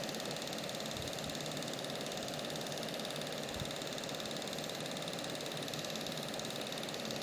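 Homemade brushless DC motor driven by a homemade controller, giving a steady, continuous whirring hum at even level with a few low thumps, running alone without talk.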